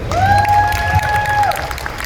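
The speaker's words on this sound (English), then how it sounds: "Round of applause." An audience applauds and cheers at an Avatar: The Last Airbender convention panel at Nostalgia Con Anaheim 2025, with a dense, steady clatter of clapping and a long, sustained whistle riding over the crowd noise.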